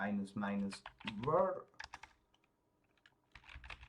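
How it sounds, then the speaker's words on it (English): Computer keyboard keys tapped to enter a terminal command on Linux, with a short burst of clicks near the end following louder talking at the start. "Then you can type in docker, for example"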